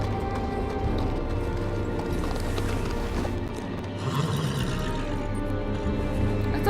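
Horse hooves clip-clop steadily in a Game of Thrones Telltale video game, layered over constant game music and ambience at a moderate, even level with no pauses.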